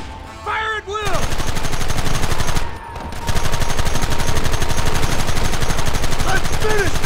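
Gunfire in the Red Dead Redemption video game, dense rapid shots and bursts rattling loudly almost without pause, with brief shouted voices and a short lull before the firing resumes.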